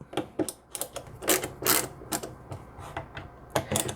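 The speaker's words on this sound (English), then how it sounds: "A little bit more comfortable ratcheting action than a traditional long handle ratcheting screwdriver." Stubby GEARDRIVE ratcheting screwdriver backing screws out, giving a quick series of close, crisp ratchet clicks in uneven bursts with short pauses between turns.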